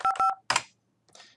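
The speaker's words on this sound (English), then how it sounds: "You should be able to hear the dialing" Dialing tones from the Bria softphone app: a quick run of three beeping keypad tones, then a brief rushing burst and a fainter trailing sound, clean and close with no talk.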